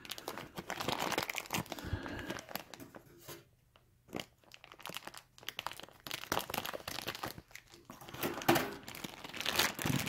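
Plastic wrapping on a vacuum-packed king size comforter is cut open and pulled away, close irregular crinkling and crunching bursts with a brief quieter lull partway through.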